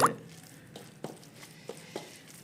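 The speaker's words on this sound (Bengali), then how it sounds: "টকটা দিয়ে একটু আলু সেদ্ধ দিয়ে" Hand mixing rice with a sour dish and boiled potato: a few soft, wet squishes and drips, close and quiet, spaced irregularly.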